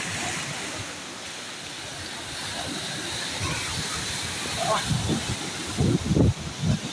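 Rushing, churning storm water surging against a breakwater on a shore during Typhoon Tino, a steady broadband roar with heavier splashes and surges near the end, with voices talking over it.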